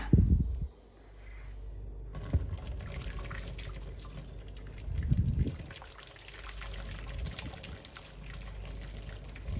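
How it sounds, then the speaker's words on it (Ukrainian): Boiled water is poured out of an electric kettle, giving a soft trickling and gushing liquid sound with a few louder splashing bursts, fairly quiet and close. "Коли закипить, виливаю воду"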